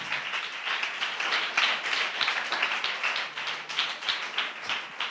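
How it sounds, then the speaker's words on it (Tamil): A church congregation claps hands together in thanks, a dense, continuous patter of many hands with a loosely pulsing rhythm, moderately loud and filling the room without any talking. "நல்லா கைத்தட்டி ஆண்டவருக்கு நன்றி சொல்லுங்க."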